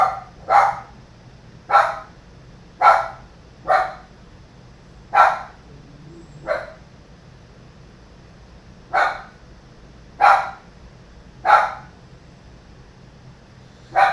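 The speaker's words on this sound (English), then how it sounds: "Dog's going a little crazy here." A dog barking in a slow, irregular series of about ten single barks spaced a second or more apart, fairly close and distinct over a low indoor hum, with no speech.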